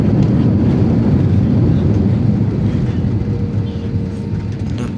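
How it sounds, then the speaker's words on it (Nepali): Jet airliner engines roar in reverse thrust just after touching down, a loud, steady broadband rumble heard from inside the cabin that eases slightly toward the end. "A full ब्याक थ्रस्ट लगाउँदैछन् अब चाहिँ"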